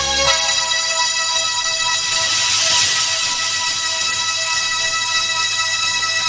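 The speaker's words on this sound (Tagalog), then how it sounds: "Ang telepono!" A telephone rings in a Tagalog-dubbed Jackie Chan action film, a bright, steady electronic ring sounding loud and alone for several seconds.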